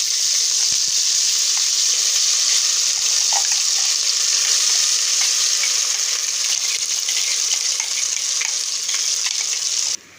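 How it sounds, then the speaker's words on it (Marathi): Ground spice paste fries with reddened garlic in hot oil for Maharashtrian amti, giving a loud, dense, unbroken hiss and crackle close up that stays even for the whole stretch. "आता आपलं आमटीचं वाटण परतून होतंय"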